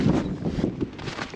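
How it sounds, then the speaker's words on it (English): Steady gusting wind outdoors in the frigid north buffets the microphone with a low, rumbling roar that swells and eases over a short stretch. "It's getting windy out here."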